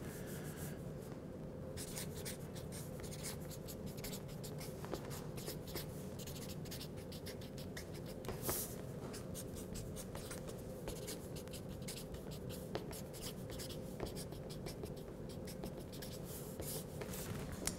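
A pen scratches continuously across paper as notes are written by hand, a steady, close, quiet scribbling that goes on for many seconds without a break and without any talk.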